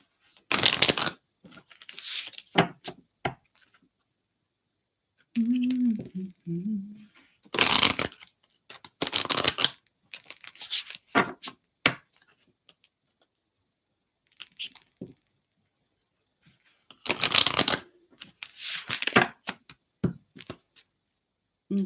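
A deck of soul's journey lesson oracle cards is shuffled by hand in several short, crisp bursts of riffling. Quiet pauses separate the bursts, and a brief low hum or murmured voice comes in partway through.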